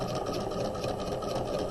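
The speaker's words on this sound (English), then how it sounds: "We're going to back stitch." A sewing machine back stitches a tote bag handle, its needle chattering in a fast, even, close-up mechanical rhythm that continues throughout without talk.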